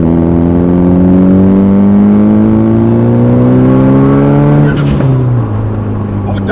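A tuned 350bhp Nissan Pulsar GTiR pulls hard in third gear with a loud, rising engine drone heard from inside the car. The revs then drop suddenly as the blow-off valve releases a sharp whooshing burst.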